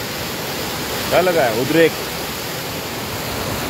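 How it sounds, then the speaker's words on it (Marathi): Water flows in a steady, broad rushing hiss throughout, with someone speaking briefly over it. "हे ना, बघा वाहतं पाणी आहे ना"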